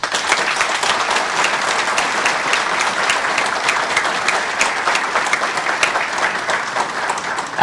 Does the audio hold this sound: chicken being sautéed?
no